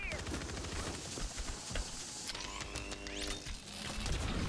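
Gunfire from a MORS sniper rifle in Warzone 3, with sharp shot cracks and mechanical bolt and reload clicks amid busy game action, heard under ongoing talk from players.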